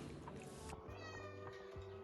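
A house cat meows in a home, a couple of short close calls with household sounds around them.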